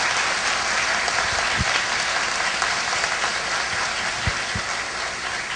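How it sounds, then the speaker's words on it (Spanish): Loud, dense applause from an audience at a Peruvian university event, greeting the San Marcos delegation, with a continuous clapping roar and a few low thumps. "Fuertes aplausos para San Marcos."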